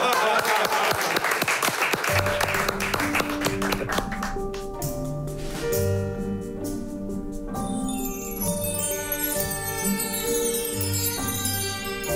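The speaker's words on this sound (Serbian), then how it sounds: "Rijetko lijep aplauz, molim vas još jedan." Applause at a dinner-party evening, dense hand clapping at first that gives way to live music with tapping and bell-like tones for most of the stretch.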